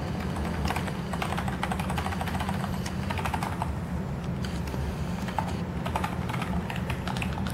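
Typing on a Logitech K120 membrane keyboard, a steady rapid stream of soft close key clicks over a low background hum, with no talking.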